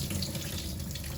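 Tap water runs steadily and close by while beans are washed in a kitchen for bean soup, with a continuous splashing rush.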